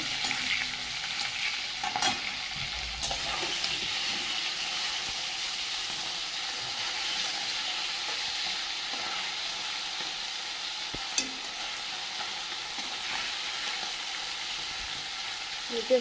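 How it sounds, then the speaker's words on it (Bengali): Chopped onion and spices with bay leaf fry in a pan, giving an even, continuous sizzle and hiss throughout, with faint stirring scrapes now and then. "আর কুচিয়ে রাখা পেঁয়াজ একটা মশলাটা একটু ভেজে নেবো"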